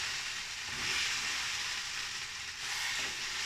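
Mushrooms sizzle and fry in ghee with a spice masala, kasuri methi and fried onions. A steady, soft hiss carries on with faint stirring, and no one talks.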